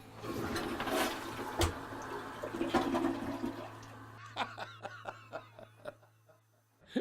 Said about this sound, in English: Okay, let's give it a flush.